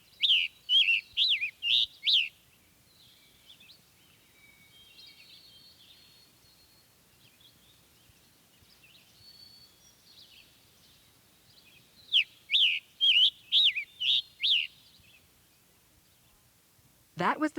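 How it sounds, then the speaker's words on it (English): Scarlet Tanager singing, a burst of clear, hoarse chirping phrases at the start, a faint quieter stretch in the middle, then another loud run of phrases near the end. "That was the song of the Scarlet Tanager."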